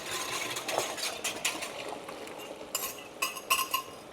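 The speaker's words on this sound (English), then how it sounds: "And I'm just gonna stir this through," A spoon scrapes and clinks against a pan while cocoa is stirred into a thick beef bouillon sauce for homemade Hamburger Helper, with quick irregular metallic taps and scrapes, close and fairly loud.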